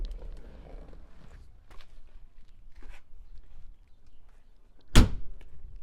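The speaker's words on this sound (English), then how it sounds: "That door slam is still one of the coolest attributes of this vehicle." The door of a vintage Porsche 911 slams shut with one sharp, solid thunk near the end, after quiet rustling and a few faint knocks and movements close by.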